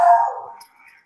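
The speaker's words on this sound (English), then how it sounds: "oh, doggy." A single sharp dog bark rings out close and loud, then decays quickly into a brief faint tail with no talking.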